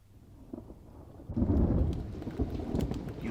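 A thunderstorm rolls in: quiet rain at first, then a loud crack of thunder bursts in and a heavy rumble carries on over steady rainfall, nearby and with no voices.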